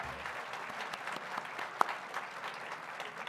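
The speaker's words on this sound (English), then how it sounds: "Give him a nice round of applause donating his time" An audience applauds a young volunteer at a convention, a steady, moderately distant patter of many hands clapping throughout, with one sharp louder clap standing out partway.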